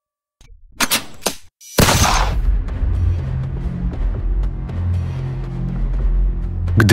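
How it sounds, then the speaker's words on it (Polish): A gunshot in an audio drama: a few faint clicks, then one sharp, loud crack, followed by a lingering low rumble and background noise. "Gdy usłyszałem strzał,"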